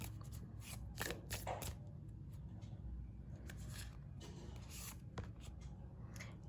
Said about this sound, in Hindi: ओके ओके, मैं एक बार और शफल करूँगी।